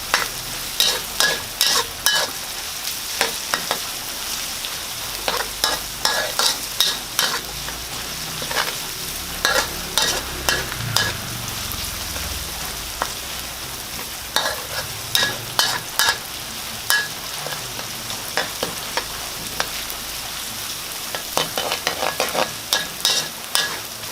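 Pickled mustard greens stir-fried in a pan, a continuous close sizzle broken by frequent sharp scrapes and clicks of a utensil stirring, with no talking.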